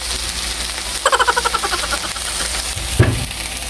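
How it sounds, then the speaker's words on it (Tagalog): Onions sautéing in a pan, a steady close sizzle and crackle throughout, with a brief rhythmic clatter partway and a single knock near the end. "ginisa ko na yung sibuyas"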